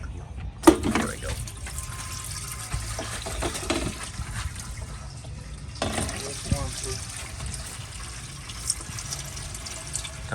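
Engine oil gushes from a Dodge truck's drain into a catch pan during an oil change, a steady splashing liquid pour with occasional louder spatters and voices speaking over it.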